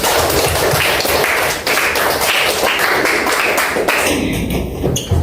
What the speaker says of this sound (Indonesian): Tepuk tangan buat semuanya langsung.